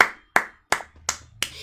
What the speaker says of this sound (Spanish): Están aplaudiendo.